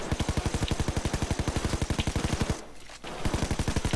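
Rapid automatic gunfire in the heist shooter video game Payday 2, a fast, even burst of loud shots that pauses briefly and then resumes, with no talk over it.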